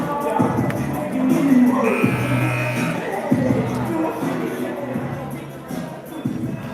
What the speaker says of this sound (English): Good crowd here for the Tigers.